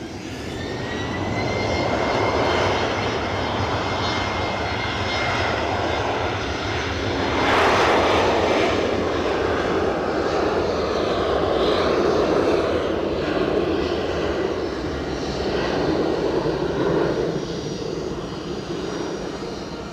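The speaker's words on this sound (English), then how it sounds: "I know if I press the fireworks, the plane will start moving." A passenger airplane engine roars at Edinburgh Airport, loud and sustained, swelling around the middle as the aircraft moves and then easing slightly, with no talk over it.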